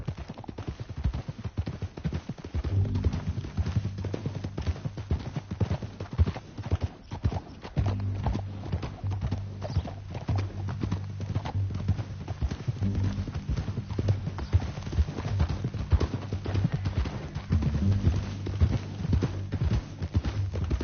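Horse hooves in Red Dead Redemption 2 clip-clop at a steady trotting rhythm, continuous and fairly close, with a low droning hum underneath.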